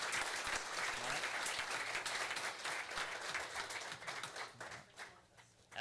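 An audience applauds at a city council meeting in Turlock, steady dense clapping from a roomful of people that holds for several seconds and then thins out and fades near the end.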